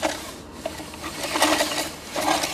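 Paracord line reeling itself onto a kayak anchor reel, a steady mechanical whirring and rubbing with small rattles that swells a bit louder toward the end, close by with no voices.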